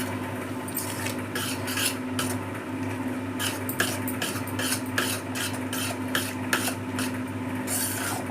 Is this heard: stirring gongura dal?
yes